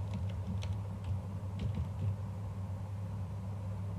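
Keystrokes on a computer keyboard tap out a quick, irregular run of clicks with a steady low hum underneath, moderately loud and without any speech.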